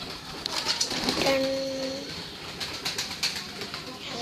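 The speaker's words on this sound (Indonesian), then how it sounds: "mengasih burung makan burung merpati" Pigeons being fed corn outdoors, giving soft cooing calls close by amid light fluttering and scratching, with a person speaking briefly.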